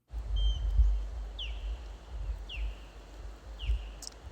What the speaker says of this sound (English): That's an osprey.